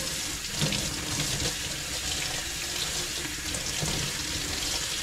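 Tap water runs steadily into a kitchen sink while food is rinsed under it. The rushing splash is continuous and close, with small bumps and clatters as the food is handled, and no voices.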